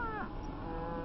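Cattle in a 1950s stockyard let out a single drawn-out moo that falls in pitch, heard at moderate distance over a low, steady background.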